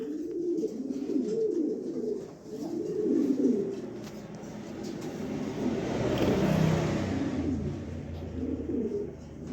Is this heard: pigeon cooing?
yes